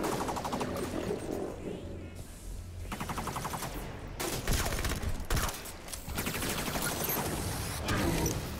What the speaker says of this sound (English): Firing on the hunter.